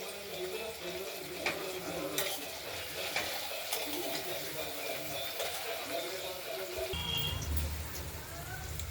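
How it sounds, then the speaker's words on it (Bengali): Paneer pieces frying in a pan: a steady close sizzle with occasional spatula taps and scrapes, a louder low rumble joining near the end. "পনিরটা ভাজা হোক।"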